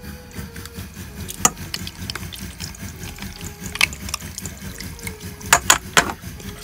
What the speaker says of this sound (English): Let's dump that out and give it a rinse.